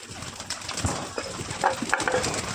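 Pet pigeons kept in a loft coo softly and flutter their wings in short bursts up close, over a steady hiss of background noise.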